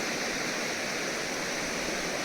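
Hot water pours steadily into a hot spring pool at Unhavare, Mandangad, a continuous broadband rush with no breaks and no voices.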